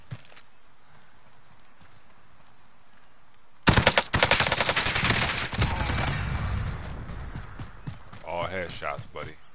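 Rapid bursts of gunfire from a shooting video game, loud clattering volleys that start abruptly after a quiet stretch and continue, with a voice heard near the end.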